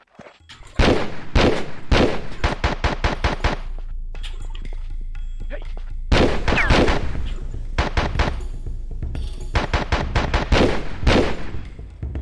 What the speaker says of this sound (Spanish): ¿Pero quién me está disparando?